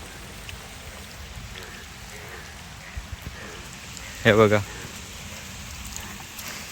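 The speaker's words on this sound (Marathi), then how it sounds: "तुम्हाला इथे आमच्या आजूबाजूला पाऊस दाखवतोय किती आलाय तो" Monsoon rain falls steadily over waterlogged farm fields as a constant soft hiss, while a person speaks briefly once near the middle and a few scattered drops tap close by.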